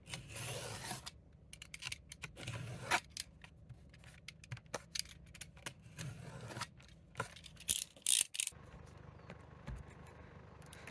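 Treadmaster boat deck panel being trimmed with scissors or shears, giving brief crisp snips and scrapes spread across the span, close and fairly quiet, with no talking.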